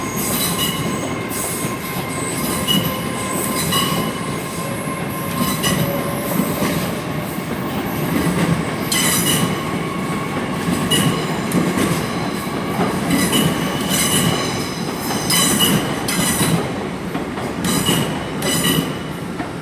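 Heathrow Express train 332002 and train 800 306 pass at London Paddington, a loud rumbling roll of wheels with squealing flange tones and rhythmic clickety-clack over rail joints, going on for many seconds with no talk.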